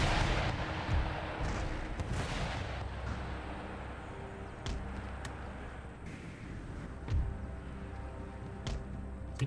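Artillery in Empire Total War booms in scattered heavy blasts, several distinct thuds and cracks spaced across the stretch over a low battlefield rumble, moderately loud and somewhat distant.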